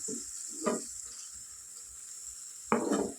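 A ginger, garlic and tomato paste frying in oil for an aloo gravy, with a soft sizzle marked by two or three brief bursts of stirring and spattering against the pan.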